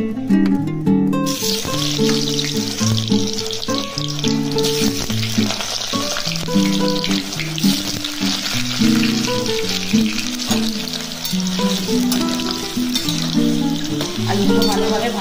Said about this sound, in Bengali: আলুগুলো ভালোভাবে ভাজা ভাজা হোক,